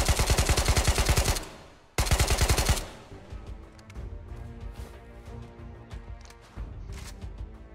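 Rapid machine gun fire in the Ghosts of Tabor VR shooter, two loud sustained automatic bursts with a short gap between them, followed by quieter scattered gunshots and game noise.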